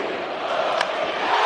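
A baseball crowd cheers in a played broadcast call, a distant, roaring swell of many voices that builds slightly toward the end.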